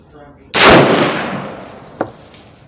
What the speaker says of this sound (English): first I'm going to be shooting on the handguard at 100 yards